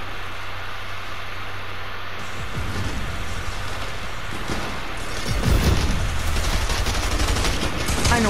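A video game opponent fires rapid, spammed gunfire that goes on without a break. A dense, loud, continuous barrage grows heavier partway through.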